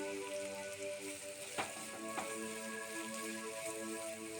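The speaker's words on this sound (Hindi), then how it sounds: "इसे ऐड कर देंगे और इसको ट्रांसपेरेंट होने तक चला लेंगे।" Chopped large onion frying in oil in a pan, a steady close sizzle with a couple of brief clinks or scrapes from stirring, no voices.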